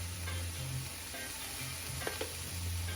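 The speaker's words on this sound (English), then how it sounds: "we're wanting to fry these to make them dry" Steady sizzling of black bean and bella mushroom burger patties frying in a pan, a continuous soft crackle with faint stirring noises and no talking.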